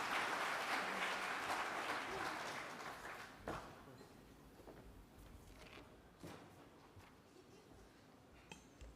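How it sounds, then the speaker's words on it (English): Audience applause at an Indigenous cleaner energy forum greeting a youth panelist, a broad clatter that is fullest at the start and thins out over several seconds into scattered claps and room noise. "Big round of applause for Michaela Woodward"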